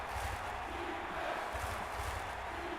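Stadium crowd ambience from the Madden 2004 football video game on Xbox, a steady roaring cheer with swelling low rumbles, continuous and moderately loud, with no talking over it.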